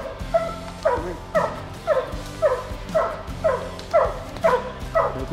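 Hunting hounds at a bear hunt bark in a steady repeated rhythm, about ten loud, close baying barks roughly half a second apart, with no talking over them.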